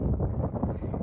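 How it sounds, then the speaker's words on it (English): Wind gusts buffet the microphone at an Appalachian Trail campsite, a low rumbling whoosh that stays close and steady through a brief moment with no speech. "it's kind of windy here"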